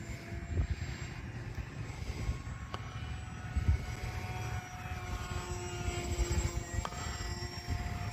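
A continuous buzzing propeller engine of a radio-controlled model airplane drones steadily overhead, with the pitch shifting slightly as it maneuvers, fairly close and unbroken.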